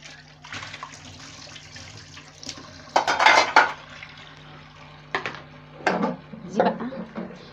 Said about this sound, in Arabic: غسلت الغطيان بتاعتي كده